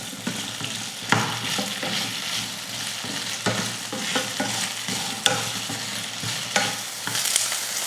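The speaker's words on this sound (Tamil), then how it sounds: "வெண்டைக்காய் வறுக்கிறதுக்கு ஒரு பேன் வச்சு வெண்டைக்காய் சேர்த்துடலாம்." Okra sizzles and fries in oil in a pan, with a steady close crackle broken by occasional louder stirring scrapes and clacks.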